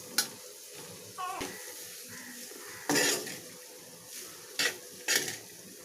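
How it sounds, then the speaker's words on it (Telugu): Cooked rice is stirred into mint paste in a pan for pudina rice, soft sizzling underneath with a handful of sharp spoon scrapes and clinks against the pan, close and fairly quiet, spaced irregularly. "మొత్తం ఇలా అన్నం అంతా మిక్స్ చేసుకోవాలండి"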